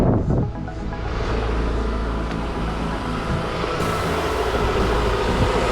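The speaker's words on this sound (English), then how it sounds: "The engine is sounding great." A running car engine from a $400 dealer-auction car idles steadily in a continuous low rumble, moderately loud and close, with no speech.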